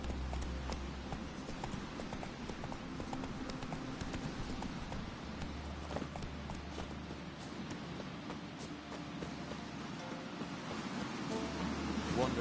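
A horse in The Witcher 3 trots with continuous rhythmic clip-clopping hooves over a soft rustling outdoor ambience, steady and fairly quiet throughout.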